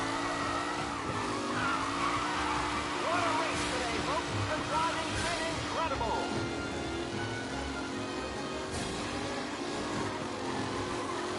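Race cars from the game Mafia roar and skid through the final lap, their tires squealing in wavering whines over steady engine drone, with a voice talking over the din.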